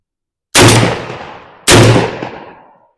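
Two loud, sharp shotgun blasts from a restored Browning Auto-5 fired at the range, roughly a second apart, each trailing off in a long outdoor echo, with no talking.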